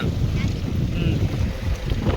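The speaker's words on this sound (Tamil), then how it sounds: "இங்கே அப்படியே போட் போகுது பாருங்க, மீன் பிடிக்கிறதுக்கு" A fishing boat heading out to sea off the coast at Ramanathapuram, heard as a steady low rumble of water and engine under heavy wind buffeting the microphone.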